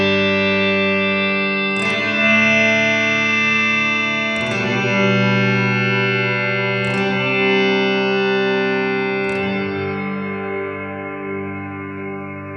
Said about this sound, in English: it's automatically going to freeze new sounds as it hears them. And it fades those sounds out with the speed that you set.